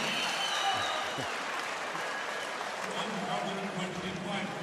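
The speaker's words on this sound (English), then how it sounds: "He's got it, he's landed it, and the crowd go crazy." Arena crowd at the 2019 European Weightlifting Championships, men's 61 kg, cheering and applauding a completed lift, a steady, dense wash of clapping and roaring that fills the clip at a moderate level.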